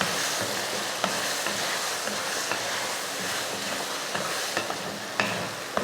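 Taro root pieces with tomato and salt sautéing in a pan give a steady loud sizzle and hiss, broken by occasional scraping clicks of a stirring spoon, with no talking.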